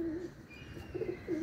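Pigeons coo nearby, low throaty calls coming in short repeated bursts over faint background noise, with no one speaking.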